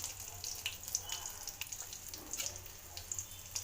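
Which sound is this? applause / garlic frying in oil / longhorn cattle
garlic frying in oil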